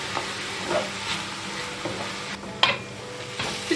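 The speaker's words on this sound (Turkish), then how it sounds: "Bir buçuk kapya biber ve iki adet yeşil biber ekliyorum." Red capia and green peppers fry with meat in a pan, a close, continuous sizzle broken by stirring clatters and one sharp utensil knock against the pan.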